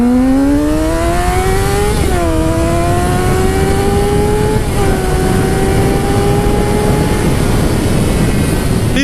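A Honda CBR600RR motorcycle engine drones loudly and continuously while riding, its pitch climbing, dipping with gear shifts, then holding steady against heavy wind noise.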